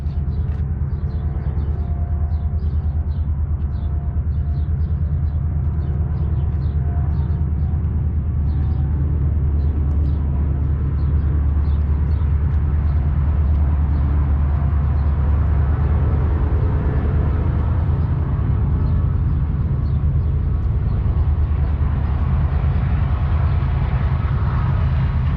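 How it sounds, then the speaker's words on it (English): A passing train rumbles steadily near a roadside bottle tree ranch, a loud, continuous low roar with a rattling mid-range that holds unchanged throughout, with no voices. "Hear the sound of another passing train."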